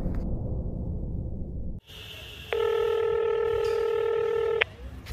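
A mobile phone dials out for a normal call, a steady electronic tone sounding for about two seconds over faint background noise, with breathing and room sound before it.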